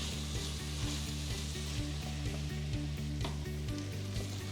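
A paprika mixture sizzles and fries in a pan for Spanish patatas Riojana, a steady crackling hiss close by with faint stirring clinks and a low rhythmic hum underneath, no voices.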